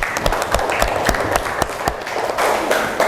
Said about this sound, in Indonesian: Tepuk tangan untuk Ame